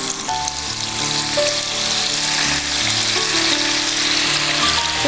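Marinated chicken pieces, coated in pepper powder, chilli powder, turmeric and salt, fry in oil with a loud, steady, close sizzle and crackle that holds throughout, with no one talking.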